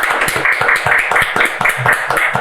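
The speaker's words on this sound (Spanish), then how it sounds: "Un aplauso para él, señores." Audience applause for a gynecologist guest, rhythmic hand claps in a steady pulse, loud and close, with little talk over it.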